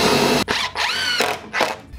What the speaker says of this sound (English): And to avoid any splitting, I'm pre-drilling these holes